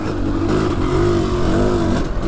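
A 700cc two-stroke dirt bike engine revs up to half throttle, a loud, close, buzzing roar that holds steady for a couple of seconds before dropping back.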